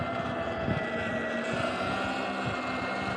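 Sur Ron electric dirt bike being ridden, a steady motor whine with rushing wind noise, loud and continuous, with a few faint knocks underneath.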